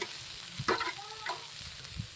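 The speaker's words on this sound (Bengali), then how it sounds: "এই দেখো বন্ধুরা আলুগুলো ভাজা হয়ে গেছে মানে একদম পুরোপুরি ভাজা হয়নি মানে হাফ ভাজা হয়ে গেছে" Half-fried potatoes sizzle in a pan for fish-oil curry, with a spoon stirring and scraping now and then; close and fairly quiet, no speech.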